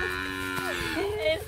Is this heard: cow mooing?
yes